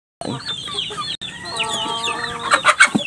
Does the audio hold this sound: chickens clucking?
yes